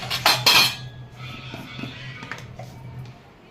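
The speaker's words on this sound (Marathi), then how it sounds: "हलवून मस्त हलवायचं आहे" Clinks and scrapes of a spoon stirring red chilli powder and spices into a fish marinade for crispy mandeli fry, with a burst of sharp metallic taps at first, then softer intermittent scraping, close up.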